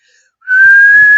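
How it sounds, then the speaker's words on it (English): A single steady mouth whistle rises slightly in pitch and holds as one long, loud, clear tone after a brief quiet start, practiced by someone learning to whistle. "this is also how people start practicing to whistle"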